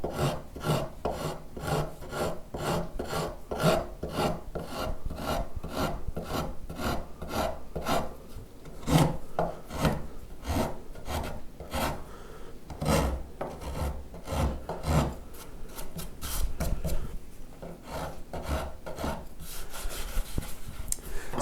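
A hand tool shaves wood on a Telecaster guitar build, taking off curly shavings in a steady run of close, rasping strokes with brief pauses between passes.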